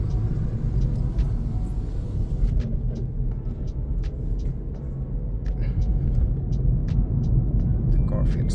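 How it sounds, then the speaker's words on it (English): Cabin rumble of a VW Golf 7 1.4 TSI with a newly replaced turbo on a test drive, steady low road and engine drone heard from inside with the windows closed, light ticks and clicks above it. "So now we're gonna do a test drive."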